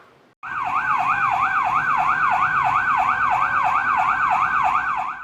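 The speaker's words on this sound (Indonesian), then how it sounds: "mendadak suara sirine dari kendaraan Dinas Kepolisian Satlantas Jakarta Barat menggema keras di perempatan traffic light Tomang" A loud police vehicle siren starts abruptly and sweeps up and down in fast, regular cycles, steady and close, with traffic rumble beneath, at a city traffic-light intersection.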